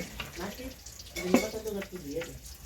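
Potatoes frying in a pan over a clay stove in a family kitchen, a soft continuous sizzle with occasional stirring scrapes and faint background voices, close and moderately quiet.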